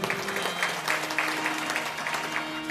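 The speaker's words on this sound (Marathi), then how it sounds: "आमच्या मृदंगाचार्यासाठी टाळ्या वाजव" An audience at a devotional kirtan claps for the mridangam player, a brief, lively burst of many hands with a faint sustained tone underneath.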